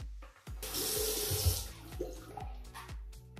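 A tap runs into a sink as cosmetics are rinsed off with plain water, a loud splashing stream in the first seconds, then lighter trickling and scattered drips and knocks.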